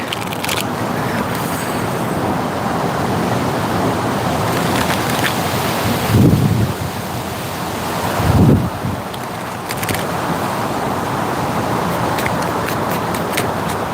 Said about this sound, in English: It's so windy here.